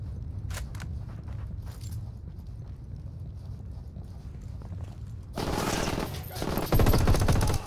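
A squad opens fire in Ghost Recon Wildlands, a sudden loud burst of sustained automatic gunfire breaking in after a stretch of quieter rumbling ambience and a few scattered shots.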